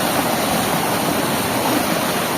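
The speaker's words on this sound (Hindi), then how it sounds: "और देखो पानी का फ्लो, पाँव पूरा डूबने जा रहा है मेरा।" Water flowing around feet as someone wades through a flooded, seeping area during an outdoor drone rescue, a steady, loud rushing wash filling the whole moment without pause.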